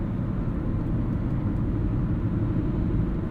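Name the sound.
tire noise from older tires on a 2003 Lexus GS 300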